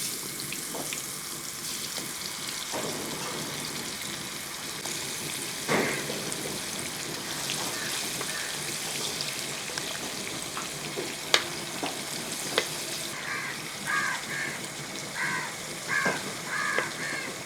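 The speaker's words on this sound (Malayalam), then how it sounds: "വെളിച്ചെണ്ണയൊക്കെ ഒന്ന് ചൂടായ ശേഷം ഇതൊന്ന് ഫ്രൈ ചെയ്തെടുക്കണം" Prawns sizzle in hot coconut oil, a continuous crackling fry with occasional sharp pops and a few brief chirping sounds in the background, no voices.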